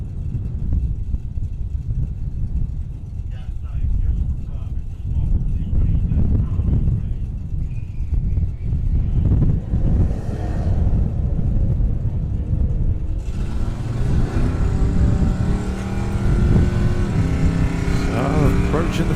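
A Cherokee Jeep and a BMW drag race toward the finish line at a drag racing event, with loud engine roar rising throughout and an announcer talking over it.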